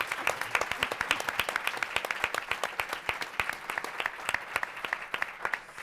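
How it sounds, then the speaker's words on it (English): A modest audience at an art and social activism event claps for an honored guest, distinct individual hand claps audible as a fairly quiet, uneven patter rather than a dense roar, with one or two voices faintly underneath. "everybody give him a round of applause"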